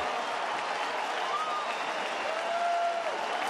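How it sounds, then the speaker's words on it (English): A baseball stadium crowd cheers and applauds steadily at a Rockies–Tigers game in Detroit, a broad distant roar of clapping and voices filling the space, with a commentator's voice faintly above it. "And here comes the crowd."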